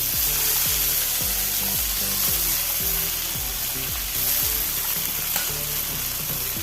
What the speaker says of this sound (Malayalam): ഇനി മൂന്ന് പച്ചമുളക് ചെറുതായി അരിഞ്ഞതും കൂടി ചേർത്ത് കൊടുത്ത് ഇളക്കുക ഇനി അരിഞ്ഞു വെച്ച ഇല അടുപ്പത്തിടാം